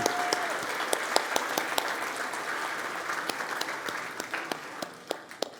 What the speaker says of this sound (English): let's give our team and volunteers a big round of applause